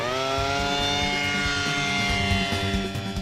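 A DARPA micro air vehicle drone whines steadily during takeoff. Its loud rotor and engine drone holds high, even tones with a rougher low rumble underneath throughout.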